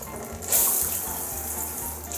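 Steady shower spray of water runs in the bathroom of a renovated second-hand house, starting abruptly and hissing continuously at close range with no talk.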